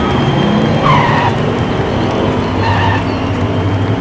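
Diecast toy cars race down a track on a French miniature-racing course, a continuous rolling roar with two squealing drift skids, loud and close throughout.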